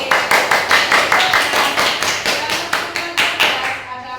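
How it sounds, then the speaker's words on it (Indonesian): A classroom of students claps for Mas Viko in a lesson on coding and smart machines. The claps are loud and close, with steady, evenly spaced beats running for about four seconds with no talk over them. "tepuk tangan buat Mas Viko"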